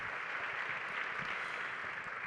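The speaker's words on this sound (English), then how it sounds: "One more applause for all four of them, please, for this great discussion." An audience at an innovation awards ceremony keeps up a steady, even wash of applause that sounds fairly distant and soft, with no voices standing out.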